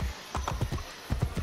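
Horse hooves clip-clopping in Assassin's Creed Brotherhood, a steady, close trotting rhythm of repeated hoof strikes with no talk over it.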